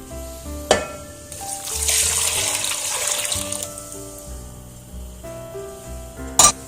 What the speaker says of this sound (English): we're actually now going to pour the milk in.